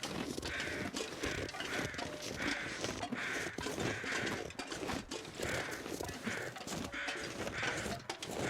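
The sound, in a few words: bird calling in The Long Dark video game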